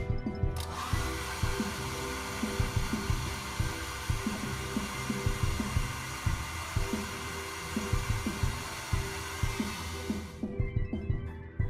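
A hair dryer blows heat over enamel binder to drive off the solvent while weathering metal model railway track, a steady close whir running almost the whole time and cutting off near the end, with faint tapping knocks underneath.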